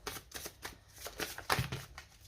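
Tarot cards are drawn and laid down in a quick series of soft, close papery slides and flicks, with no talking over them.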